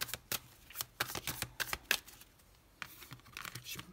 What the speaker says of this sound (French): on va poser toutes les cartes et après on va les recouvrir